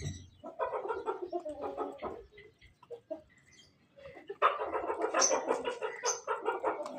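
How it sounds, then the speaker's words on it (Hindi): Hens in a village yard cluck and squawk in short, overlapping bursts, one call after another, growing louder and busier toward the end with no one talking. "एक मुर्गी ने दूसरी मुर्गी को सही मारा है"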